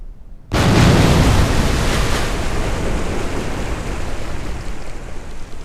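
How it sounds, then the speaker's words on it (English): Rocket explosions in Kerbal Space Program: after a short quiet moment, a sudden loud roaring blast bursts in and settles into a continuous heavy rumble of noise that slowly fades, with no speech. "Just enjoy the explosions."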